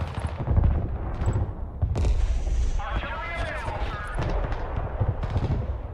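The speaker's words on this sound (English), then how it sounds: "I'm trying to fire artillery on it now" Artillery fire in the Broken Arrow war video game: sharp, booming shots and bursts of gunfire land at irregular intervals, fairly quiet and somewhat distant, with voices talking over the combat.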